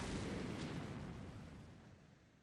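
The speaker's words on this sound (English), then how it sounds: "she caused an explosion. I don't know if you heard that sound effect." An anime explosion effect hits as a loud, broad roaring blast that fades slowly across two seconds, standing alone without speech.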